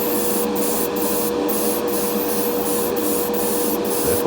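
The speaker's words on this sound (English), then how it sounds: "the airbrush isn't spraying as good as it should be" An airbrush spraying paint onto a Corgi Mini model car, a steady close hiss with a faint tonal whine, broken by several brief cut-outs as the trigger is released, with no talking.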